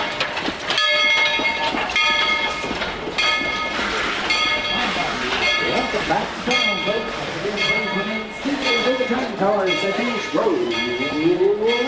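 Tweetsie Railroad train with its bell ringing in steady repeated strokes, the rhythmic clanging carried over rumbling wheels and a clickety-clack of rail cars, loud and close.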